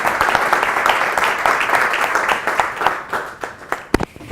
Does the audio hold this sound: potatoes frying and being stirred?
no